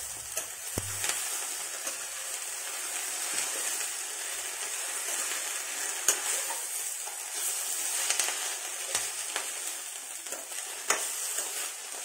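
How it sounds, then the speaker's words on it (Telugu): Drumstick leaves for chutney fry in a pan with a steady, close sizzle, broken by occasional sharp scrapes and taps from stirring; no one talks. "ఇలా ఫ్రై చేసుకోవాలండి బాగా"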